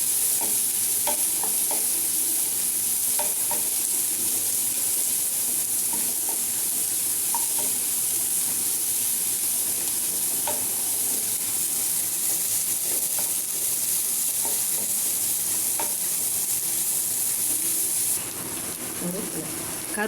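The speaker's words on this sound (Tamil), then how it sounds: "வெங்காயம் போட்டு நல்லா வதக்கிடும்." Onions sautéing and being stirred in a pan for a mixed vegetable sabji, a steady close sizzle with scraping stir strokes throughout, the frying hiss easing slightly near the end.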